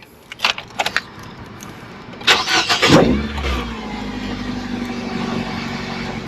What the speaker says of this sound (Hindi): एक खड़ी है गाड़ी अपनी, तो ये मैंने काफ़ी अरसे बाद जो है ना स्टार्ट करेंगे।